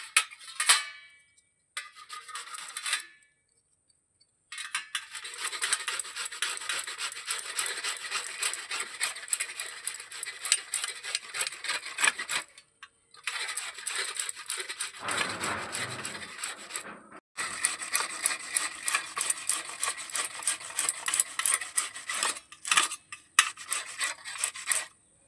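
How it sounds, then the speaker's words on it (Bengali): Peeled mangoes are scraped against a hand grater in a home kitchen, a rapid run of close, rasping strokes in bursts separated by short pauses. "এবার আমগুলো এটা দিয়ে ঘষে নেব।"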